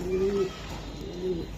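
Racing pigeons, a young cock and hen, give a couple of low soft coos close by, the second after a short pause, over a faint background hum.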